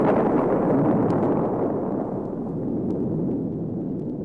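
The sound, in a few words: explosion of planet Krypton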